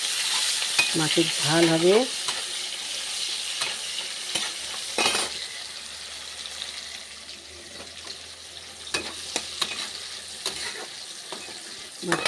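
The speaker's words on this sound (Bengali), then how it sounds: "এই যে কড়াই তেল দিয়ে দিয়েছি, এই যে পেঁয়াজ দিয়ে দিলাম" Chopped onions sizzle in hot oil in a wok on a home kitchen stove, a continuous frying hiss with stirring clatter and a few sharp knocks, while someone speaks briefly over it.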